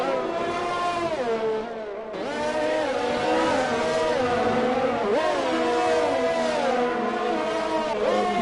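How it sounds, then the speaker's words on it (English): Formula race car accelerating out of a corner on the Baku street circuit in Azerbaijan, engine pitch climbing and dropping sharply through quick short-shifted gear changes, loud and close, with no speech. "Now short shifting out of the corner."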